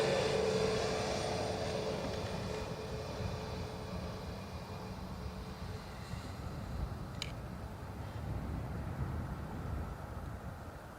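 A Lufthansa airliner from Frankfurt at Dublin Airport gives off a distant, broad engine roar that fades gradually, mixed with light wind noise in the open air.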